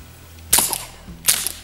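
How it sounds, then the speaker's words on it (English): Two sharp suppressed shots from a Ruger MK IV 22/45 Lite .22lr pistol on a shooting range, spaced under a second apart, each a crisp crack with a short tail, no talking. "I had to try it with a suppressor first, and it worked great."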